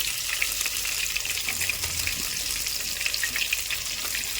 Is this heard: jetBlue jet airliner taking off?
no